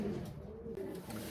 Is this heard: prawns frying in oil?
no